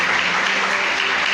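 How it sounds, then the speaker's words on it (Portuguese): A church congregation claps in a dense, steady burst of applause that fills the whole moment without pause. "Aplauda Jesus."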